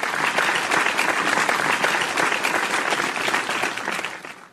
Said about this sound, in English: I really like this fake applause.